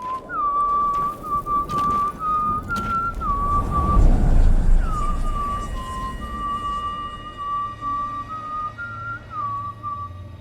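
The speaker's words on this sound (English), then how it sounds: "Gaunter O'Dimm, Master Mirror, simply walks away, juggling Olgierd's skull, while whistling" Gaunter O'Dimm whistles a slow, wandering tune in The Witcher 3, the clear notes drifting up and down over a soft rumbling background, with one brief swell of low noise midway.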